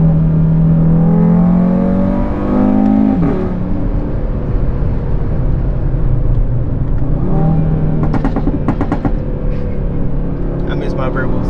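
Audi R8 V10 engine revving hard and climbing through the rpm range, a loud sustained mechanical howl with pitch sweeps rising and falling, heard from close by with a voice talking over it.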